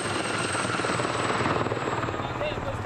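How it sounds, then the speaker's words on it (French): Military helicopters flying over Mali, a steady loud rotor and engine roar with dense broadband wash and a faint rhythmic chop, continuous throughout with no voices. "Il y a aussi des hélicoptères, prêts à faire feu."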